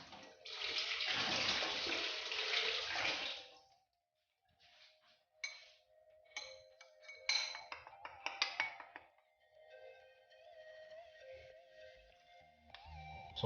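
Water gushes from a tap in a loud rush for a few seconds, then stops, followed by scattered light clinks and small handling sounds.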